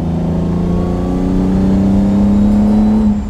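A 1967 Lamborghini 400 GT 2+2 with its V12 engine pulls steadily uphill, a loud, continuous, close engine drone whose pitch climbs smoothly as it accelerates, with no voices over it.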